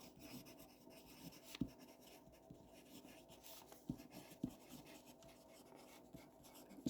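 A pen scratches softly across a seed packet label as a flower variety name is written on it, giving a faint, continuous scribbling with a few small taps, heard close and quiet without speech.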